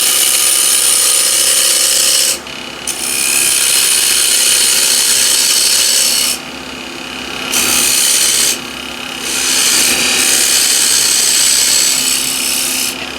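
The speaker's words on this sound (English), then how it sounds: "Back with a shear scraper." A shear scraper rasps against walnut spinning on a wood lathe, making loud, gritty scraping in long passes broken by brief lifts of the tool. The lathe hum runs underneath and nobody speaks.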